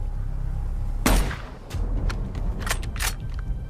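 A single sniper rifle shot rings out loud and close, followed by a few fainter trailing cracks or echoes over a steady low background rumble.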